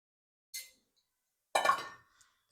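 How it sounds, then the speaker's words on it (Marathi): Washed dal lentils tipped into a pressure cooker pot make two short plops, the second louder with a brief rattling scatter, in an otherwise quiet kitchen. "सगळी डाळ टाकायची."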